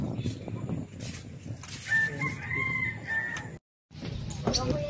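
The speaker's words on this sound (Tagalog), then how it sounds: "Daming mga ibon, no?" Several birds calling and chirping close by over a busy outdoor background, with brief crowing-like cries amid faint voices.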